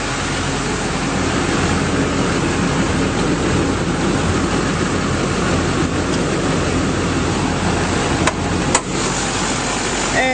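A 2009 GMC Sierra 2500 crew cab diesel 4WD pickup idles with the hood open, a loud, steady, unbroken engine drone close by, with a couple of brief clicks near the end and no talking.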